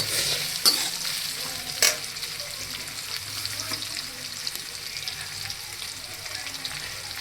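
Paratha filling stirs and fries in hot oil until browning, a continuous soft sizzle with occasional sharper scrapes and taps of a spoon against the pan.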